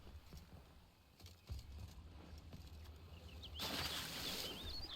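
A bird takes off in The Witcher 3, with a soft flutter of wings against quiet ambient outdoor noise, followed by a brighter rush and faint chirps toward the end.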